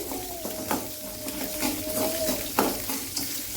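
Chutney ingredients being sautéed in a pan until golden: a steady sizzle under close spatula stirs and a couple of sharp scrapes against the pan, with a faint whistling tone running through, no talking.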